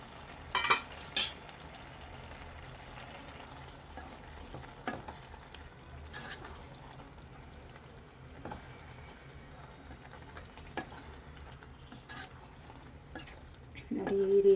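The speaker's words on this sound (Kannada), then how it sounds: "ಈಗ ನಾವು ಏನು ಆಲೂಗಡ್ಡೆನ ಫ್ರೈ ಮಾಡ್ಕೊಂಡಿರ್ತೀವಲ್ಲ ಅದನ್ನು ಇದಕ್ಕೆ ಬೆರೆಸೋಣ." Fried potatoes being stirred into spinach curry (aloo palak) in a pan, with a steady low sizzle of frying under soft scraping and stirring, a few sharper clinks of utensil against the pan.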